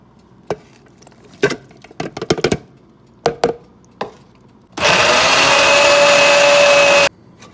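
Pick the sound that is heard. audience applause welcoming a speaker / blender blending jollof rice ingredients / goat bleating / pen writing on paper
blender blending jollof rice ingredients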